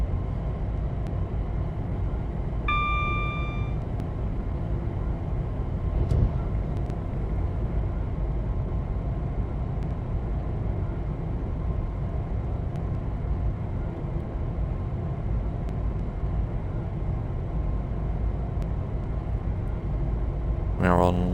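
A Class 350 electric multiple unit runs in a train simulator game on the West Coast Main Line out of London Euston, a steady low rumble throughout with a brief horn-like tone near the start while someone talks.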